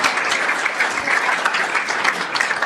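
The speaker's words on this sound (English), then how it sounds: "can I kind of push a round of applause for Sal?" An audience at a talk on AI tools for launching startups applauds, with dense, steady clapping from a crowd filling the whole moment, moderately loud and without talk over it.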